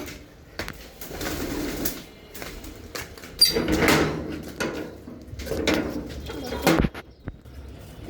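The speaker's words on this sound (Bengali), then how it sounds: "দেখা যাক আমাদের কতটি কবুতর আছে" Pigeons coo in a crowded home loft, low throaty calls rising and falling over several seconds amid shuffling and knocks from the coop.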